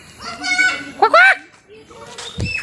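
Birds at Guwahati zoo give a few loud honking, nasal calls close by, with a person's voice heard briefly among them.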